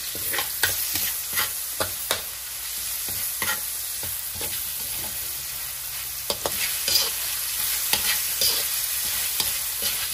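Pork liver stir-frying with shrimp in a hot pan, a steady sizzle broken by repeated scraping clacks of a spatula against the metal, close and fairly loud, with no talking.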